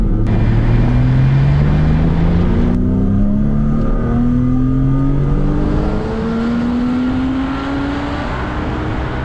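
A Porsche Boxster S 987 engine running on ethanol revs up through the gears to about 7000 rpm, its pitch climbing steadily to a high, sustained whine, loud and close throughout.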